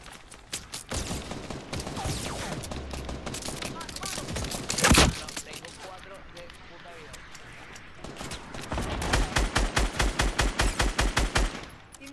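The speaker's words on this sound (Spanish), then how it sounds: "Me están disparando." Rapid bursts of gunfire in a Fortnite match, with dense crackling volleys throughout, a loud single blast midway and a fast regular burst near the end, while players talk over it.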